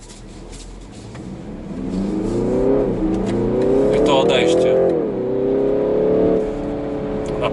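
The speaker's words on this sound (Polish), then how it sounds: "Bardzo mocno wyrywa do przodu, bardzo chce jechać." A BMW 330e M Sport revs hard and climbs in pitch as it accelerates, loud and close, with a brief dip as gears shift before pulling again.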